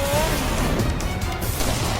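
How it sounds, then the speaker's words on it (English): Engines of motorcycles and souped-up stunt cars roar at the Lights, Motors, Action Extreme Stunt Show at Walt Disney World, a loud, dense, continuous wall of revving close by. "like motorcycles and souped-up stunt cars buzzing everywhere around you"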